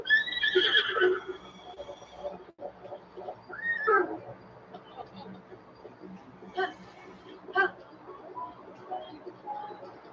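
A horse in Zelda Breath of the Wild gives a loud, shrill whinny followed by a second neigh, then softer snorts and hoof sounds, with someone talking at points.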